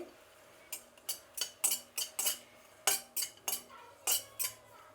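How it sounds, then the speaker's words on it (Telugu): A utensil scrapes and taps against a pan while tamarind is roasted and stirred, about a dozen sharp metallic strokes in an uneven rhythm, close and fairly loud over a quiet background. "చింతపండు వేయించుకుందాం దీంతోనే."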